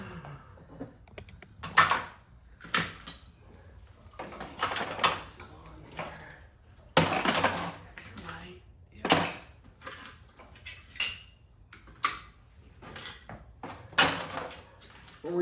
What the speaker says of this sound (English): we're putting all the metal parts in this pan along with the carburetor body, the top of the carburetor, the venturi cluster